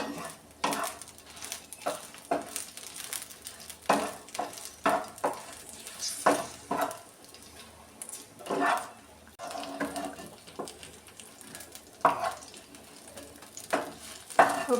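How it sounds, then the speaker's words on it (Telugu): Green chillies frying in a pan while being stirred, with intermittent scraping and clattering of the spoon over a soft, steady sizzle, close by. "బాగా ఫ్రై చేసుకోవాలి ఇంకా పచ్చిమిర్చి అయితే ఫ్రై అయిపోయినాయి"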